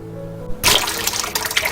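Water trickling into a round stone basin at the Wonwonsa temple site in Gyeongju, a sudden bright rush of flowing, splashing water that starts after a quiet moment and continues close and steady.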